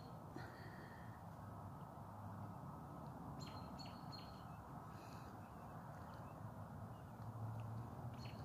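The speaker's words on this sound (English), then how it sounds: "And the birds are chirping." Birds chirp and call outdoors on a spring evening in Edmonton, Alberta, with scattered short tweets rising faintly over a steady wash of background noise.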